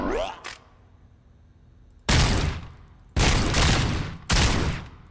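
Gunfire in the RoboCop: Rogue City video game: after a brief early crack, three loud, close bursts of shots follow in quick succession, each cutting off sharply.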